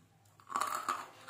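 Someone bites and chews Nakumatt clay crumbles mixed into small pieces, giving a few close, dry crunches over about a second, faint and alone with no talking.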